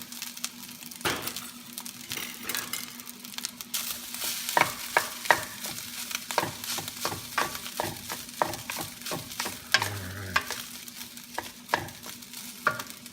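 Rice for Japanese fried rice is stirred and tossed in a hot pan, with repeated scraping clatters of a utensil over a continuous soft sizzle, close and fairly quiet, no one speaking.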